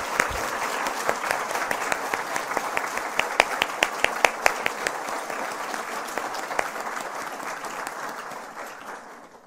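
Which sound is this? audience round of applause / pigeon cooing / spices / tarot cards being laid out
audience round of applause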